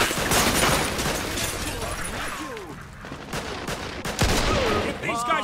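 Rapid machine-gun fire in the Mafia II video game: dense bursts of shots and booms that fill the clip, with shouting voices mixed in amid the battle.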